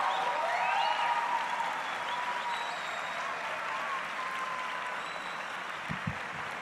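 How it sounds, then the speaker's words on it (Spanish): Sustained applause from an audience at a forum on the challenges to democracy in Latin America and the Caribbean, a broad continuous clapping that fades slightly toward the end, with a faint tonal hum underneath. "Manuela Dávila y Boaventura de Sousa Santos, les pido un fuertísimo aplauso para ellos."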